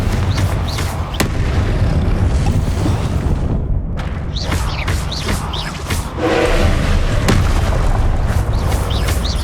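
Confringo explosion spells in Hogwarts Legacy go off as repeated booming bursts over a constant roar of combat noise, loud and close, with sharp cracks and whooshes between them.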